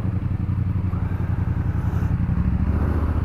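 A 2021 Triumph Street Triple RS motorcycle runs steadily on a test ride, its engine a loud, continuous low rumble with a throbbing pulse that holds for the whole stretch, no talk over it.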